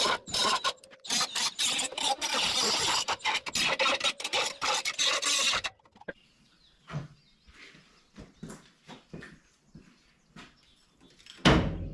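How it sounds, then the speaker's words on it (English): A die grinder touches up metal on a C10 truck radiator project, grinding with a harsh, continuous rasp for about five seconds, then quieter scattered knocks and handling noises follow. "touch them up with the die grinder"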